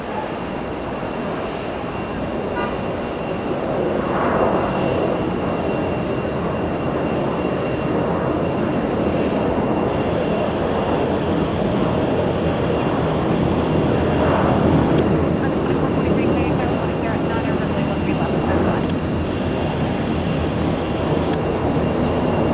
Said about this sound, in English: Right now we go back to the executive jet, landing on 22 left.